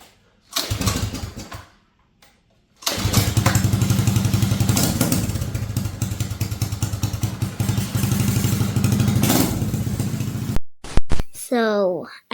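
A small mini bike engine sputters briefly, then revs and runs steadily on a first test ride, a loud buzzing putter close by with a voice heard near the end.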